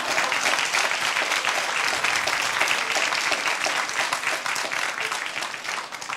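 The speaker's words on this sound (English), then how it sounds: "Give yourself a round of applause." A crowd at a women's empowerment evening bursts into sustained applause, a thick, steady clatter of many hands that stays loud for several seconds and eases off slightly near the end.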